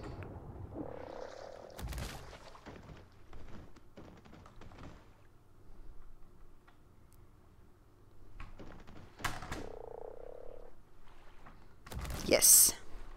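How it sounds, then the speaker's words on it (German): Frog croaks and jumping thuds from the survival video game ARK, a few short croaks and taps spread across the stretch with a person talking in between. "Ich hab doch einen Frosch, ich will da hinspringen können."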